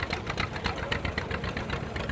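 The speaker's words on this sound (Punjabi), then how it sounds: "ਇਹ ਤੁਸੀਂ ਦੇਖ ਰਹੇ ਹੋ ਇਹ ਵੀ ਜੌਂਡੀਅਰ ਦਾ ਮਾਡਲ ਆ ਦੋ ਸਿਲੰਡਰ ਆ" A two-cylinder John Deere tractor engine chugs at idle with a steady, rapid knocking pulse, close and continuous throughout.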